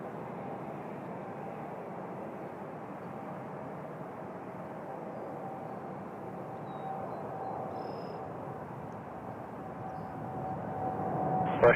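An Air Canada airliner, flight 872, taking off from runway 06 left at Toronto Pearson produces a steady, broad engine roar that holds for several seconds and then swells louder at the end.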